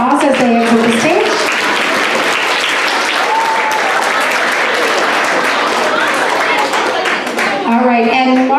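School assembly crowd claps as students leave the stage, a sustained, loud wash of applause that starts under a speaking voice and ends as talking resumes.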